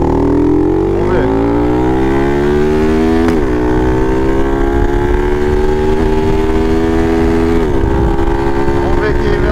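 Motorcycle fitted with a 14/36 sprocket ratio revving hard through the gears, rising engine whine with audible shifts from fourth to fifth, loud and close under steady wind rush.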